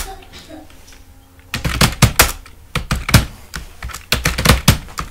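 Rapid, irregular keystrokes on a computer keyboard, close and fairly loud, begin after a quiet second and run in uneven bursts to the end, each click sharp and distinct.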